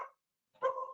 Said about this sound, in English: So got the dog barking again in the background.